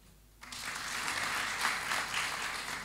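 A conference audience at the opening session of a regional prosecutors' conference in Mombasa, Kenya bursts into steady applause that starts abruptly and continues as a dense, moderately loud wash of clapping.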